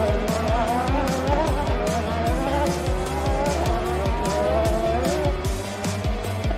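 Race cars roar past at speed, engines droning loudly while tires squeal and skid, and a rapid rhythmic thumping runs underneath throughout.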